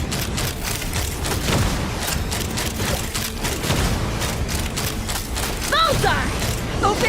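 Dense automatic gunfire and mechanical clatter fill a battle scene in Genshin Impact, loud and continuous, with character voices shouting over the shooting.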